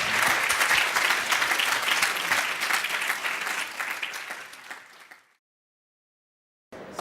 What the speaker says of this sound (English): please give Nathaniel a huge round of applause